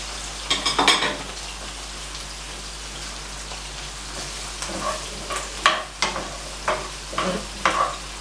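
Salmon fries in a pan, a steady soft sizzle with a short burst of stirring near the start and then several sharp clatters and scrapes as the fish is turned.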